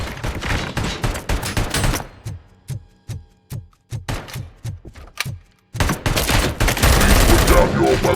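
Rapid bursts of heavy robotic gunfire from the ED-209 in the Robocop: Rogue City video game, loud and close, with a dense opening volley, a run of separate evenly spaced shots, then another sustained barrage.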